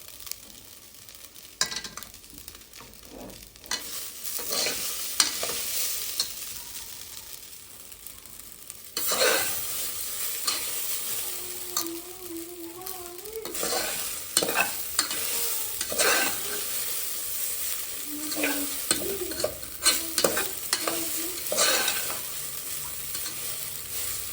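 Vermicelli for jaggery shavige sabakki payasa frying slowly in a pan, a steady soft sizzle under repeated scraping strokes of a stirring spoon, close and continuous, with no talking.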